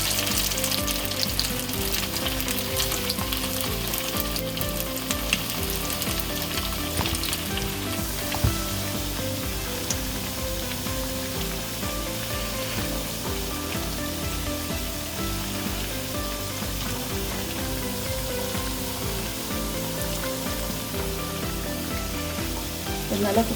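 Fish cutlets in batter deep frying in hot oil, a steady dense sizzle and crackle running throughout at close range with no talk over it.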